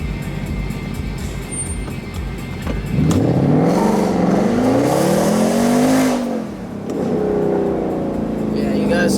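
A Mercedes C63 AMG with the P31 Development Package accelerates hard in first gear, its engine surging in a rising, loud roar that peaks and then drops, with wheelspin and a voice heard over the engine noise.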